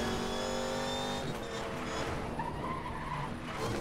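A Hennessey car in the racing game Need for Speed Most Wanted accelerating hard and then skidding, a loud rising engine whine giving way to tyre screech and rushing noise, close and continuous.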